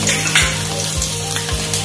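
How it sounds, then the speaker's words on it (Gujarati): Onions sizzle loudly and continuously in a hot pan while paneer chilli is cooked, a close, dense frying hiss with a few soft stirring bumps. "ત્યારબાદ અહીંયા મોટી સાઈઝમાં જે કાંદા લીધેલા છે તેને આપણે એડ કરીશું."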